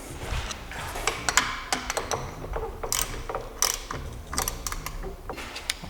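A socket ratchet tightens a bolt during a CD009 to JK40 rebuild, giving a quick series of close, crisp clicks in short bursts with brief pauses between them.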